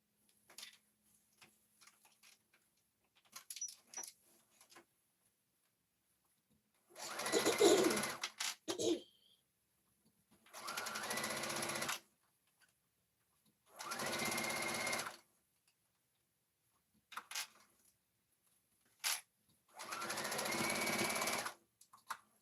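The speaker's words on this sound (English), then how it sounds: "I'm going to do my straight stitch again, like I did the last time." A sewing machine runs a straight stitch on a Valentine's hair bonnet in four separate bursts of rapid mechanical whirring, each lasting about one to two seconds, with faint clicks and handling noises in the quiet gaps between them.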